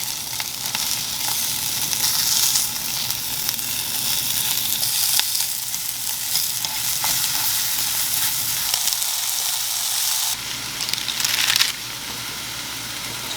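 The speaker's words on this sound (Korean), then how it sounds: "버섯이랑 소금, 후추 넣고 볶고 있었습니다." Mushrooms stir-fry in a pan with salt and pepper, giving a loud continuous hissing sizzle close by, with stirring and a brief drop in intensity near the end, and no voices.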